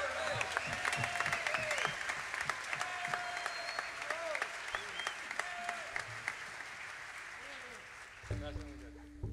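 Audience applause at a live jazz festival concert honoring a trombonist, steady and dense for about eight seconds with voices talking over it, before tonal music or voice sounds rise near the end.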